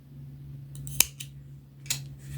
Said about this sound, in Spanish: Cortamos la hebrita